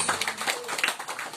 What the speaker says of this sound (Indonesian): Boleh tepuk tangan yang meriah buat Tuhan Yesus.